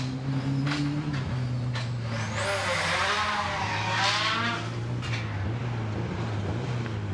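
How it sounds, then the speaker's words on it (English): A historic-spec Audi Quattro rally car rushes past on a forest stage, its engine note rising and then falling away, with faint tyre noise. "This is Tim and Nikki Clark in their Audi Quattro, which is a relatively new car, new build to historic spec"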